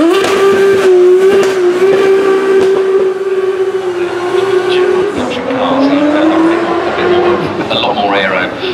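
A limited-run, road-legal GTE-style supercar at a motorsport festival roars loudly as it drives past, a sustained engine note that shifts and rises in pitch, with people talking over it.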